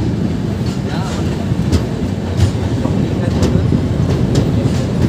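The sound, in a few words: Dibrugarh–New Delhi Rajdhani Express train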